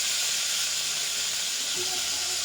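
Potato and drumstick pieces frying in hot oil, giving a steady, dense sizzling hiss that holds evenly throughout at close range, with no voices.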